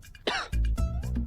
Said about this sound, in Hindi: कब से खांसी आ रही है मुझे।